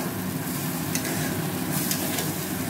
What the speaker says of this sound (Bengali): মশলা দিয়ে ভাজছি